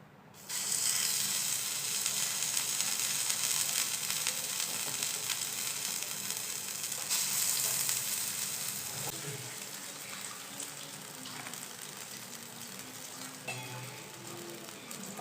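Dahi vada batter sizzles steadily in an oil-greased pan, a bright continuous hiss that starts abruptly and holds for the full length, softening slightly toward the end, close and alone with no talk.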